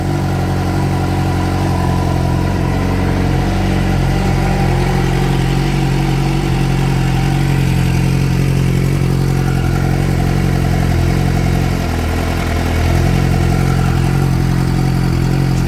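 A car engine, freshly swapped in and started for the first time, runs at a steady, loud, clattering idle for the whole stretch, up close and alone without talk.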